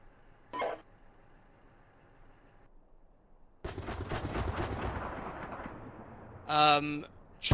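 Artillery and gunfire in a military combat video game: one sharp distant blast early, a quiet gap, then a sustained rumbling barrage with a loud crack near the end.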